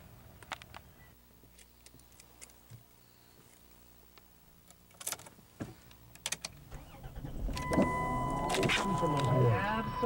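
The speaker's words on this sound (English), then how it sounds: "Car starts right away." A van with a history of stalling, once towed home by a wrecker, cranks and fires up near the end, its engine building into a loud, steady run after a quieter stretch with faint background voices.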